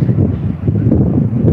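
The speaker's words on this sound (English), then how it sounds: "and it is windy." Outdoor wind buffets the microphone in a steady low rumble, loud and close for the whole stretch with no other clear sound.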